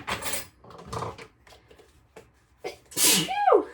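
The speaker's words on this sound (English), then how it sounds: "It's gonna make me sneeze" A single loud, close sneeze bursts out near the end, during cooking in a home kitchen while pressure-canning teriyaki beef, after a few quieter breathy sounds and light clatter.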